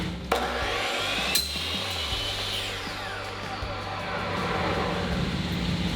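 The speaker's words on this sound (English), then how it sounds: "First time ever using a table saw." A table saw whines steadily as it cuts through wood outdoors, with a couple of sharp knocks early on and a continuous rough cutting drone throughout.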